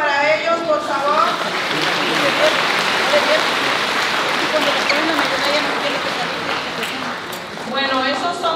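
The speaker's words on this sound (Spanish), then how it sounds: "Un aplauso para ellos, por favor." A crowd applauds loudly and steadily for several seconds, with a voice speaking briefly before and after the clapping.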